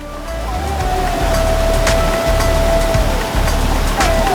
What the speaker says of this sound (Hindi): यहाँ पर आप गंगा की धारा की निर्मल जो आवाज़ है वो सुन सकते हैं